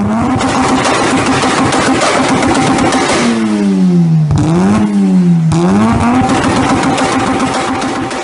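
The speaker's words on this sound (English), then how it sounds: "this freaking wonderful sound of a rotary just spit and fire" A Mazda RX-7 FC rotary engine revs hard, rising and falling through several sharp throttle blips, loud and close, with a raspy popping edge and no talk over it.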